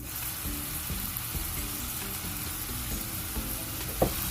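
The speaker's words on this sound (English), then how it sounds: "Then we're gonna mix everything thoroughly. Continue to cook for 2 minutes." Meat pie filling with black pepper, turmeric and curry spices sizzles steadily in a pan while a utensil stirs it with soft repeated scrapes, and a sharper clink lands near the end.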